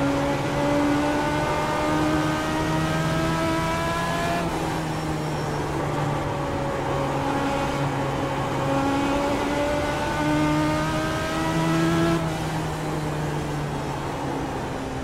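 A Legends race car at Oxford Plains Speedway in the iRacing sim drones loudly and continuously around a qualifying lap, its engine note rising and dipping in pitch as it shifts and carries through the corners, with no one talking.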